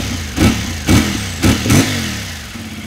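Close-up revving of a 2024 CF Moto adventure motorcycle, 450 MT or 800 MT Explore: four sharp throttle blips over a steady idle, each rising and falling quickly, the last one followed by the engine settling back down.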